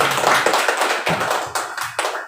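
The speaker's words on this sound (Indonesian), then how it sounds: "Kasih tepuk tangan untuk kita semua." Audience clapping at a madrasah school performance assessment event, irregular hand claps with sharp taps of varying loudness, fairly close, with no talk over them.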